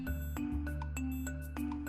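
A minute repeater watch movement chiming, with clear bell-like strikes on its gongs in an irregular pattern of high and low tones, ringing close and delicate against a quiet background.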